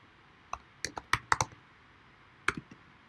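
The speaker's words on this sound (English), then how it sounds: "Then you give your girl a name. I'm gonna type in Naomi" Keys on a computer keyboard tapped to type a name, a quiet close run of about eight crisp clicks, a few in quick clusters, with a pause before the last ones.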